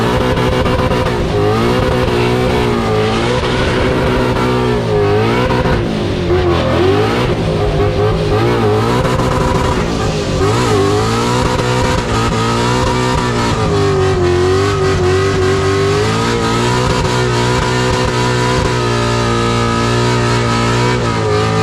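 A Ford Mustang roars at full throttle, its loud, close engine note climbing steadily, dipping briefly at the upshift into third and pulling hard again, with a sustained raw exhaust drone throughout.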